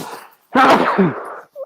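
A single loud, close sneeze bursts out after a brief quick inhale, followed by a short faint sound.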